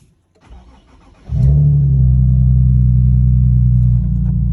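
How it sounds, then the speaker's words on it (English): A Nissan 370Z engine starting: a short crank is followed by a loud catch and a steady, close rumbling idle that holds to the end. "So you just start the car up."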